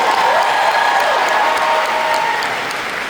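An audience claps loudly in sustained applause for Broadway singers performing at a morning fan event, a thick, even patter of many hands that eases slightly at the end.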